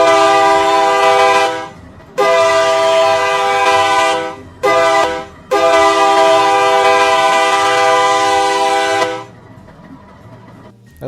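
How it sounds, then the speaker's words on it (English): A loud K3L locomotive horn sounds in a train simulator game in four blasts, two long and two short, each a rich chord. A low engine rumble runs beneath. "That's a pretty decent K3L horn."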